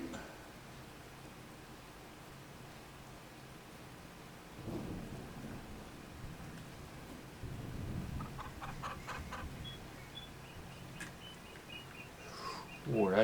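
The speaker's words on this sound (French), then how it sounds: "On va voir les poules si elles ont de quoi." Chickens cluck in a farming video game, a few short clucks standing out midway over a steady background of rain and rumbling thunder.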